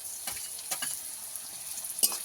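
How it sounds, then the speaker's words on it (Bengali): Garlic paste fries with softened onion in a pan, giving a faint, even sizzle broken by a few soft scraping stirs, the clearest one near the end, with no talking. "রসুন বাটাটাকেও ভালো করে ভেজে নেবো"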